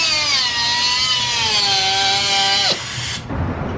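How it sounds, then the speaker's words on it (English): A power grinder cuts through a worn motorcycle chain on an Aprilia Tuono 1100 Factory, a loud, sustained high whine with shifting pitch that stops abruptly, followed by a brief clatter. "All right, cutting the chain off."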